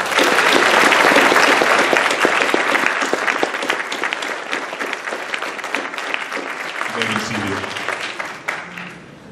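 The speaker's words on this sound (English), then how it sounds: "Please give them a round of applause." An audience at a high school Army band ceremony applauds the marching band, loud sustained clapping that gradually thins and fades, with a voice beginning to speak over the tail.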